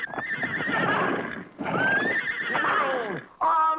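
Cartoon horses whinny loudly in two long, close neighs, followed by a brief third burst, with faint hoof clatter beneath.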